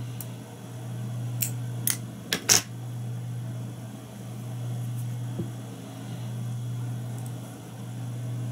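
Scissors trim stiff lurex for a pike-perch streamer fly, a few sharp close snips in quick succession, the last pair loudest, then quiet over a faint steady hum.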